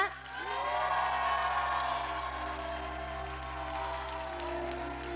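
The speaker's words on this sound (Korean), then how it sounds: "이렇게 열심히 뜨겁게 박수 보내주시는 것" Audience applause at an evening worship concert in a church featuring a violinist, a steady wash of clapping that fills the room at moderate level, with soft sustained tones lingering underneath.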